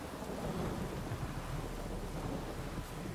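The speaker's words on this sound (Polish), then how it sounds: "Burza, psia krew." A steady, dense hiss of heavy rain and storm rumble fills The Witcher 3's world, a continuous broadband wash without distinct cracks, moderately loud and unbroken by speech.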